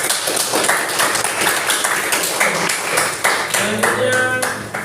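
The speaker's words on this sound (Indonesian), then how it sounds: "Tepuk tangan untuk kelompok 1." Applause for a presenting group in a classroom, a few seconds of scattered hand claps from the class with a voice speaking briefly near the end.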